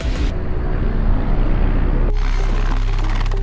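A military attack helicopter during an air force exercise, a loud, steady rotor and engine roar close by that shifts in tone partway through and carries on without pause.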